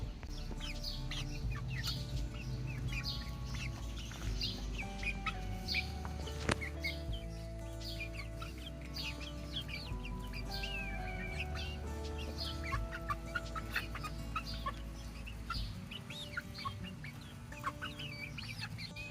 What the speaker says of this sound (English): let's go take this to the chickens.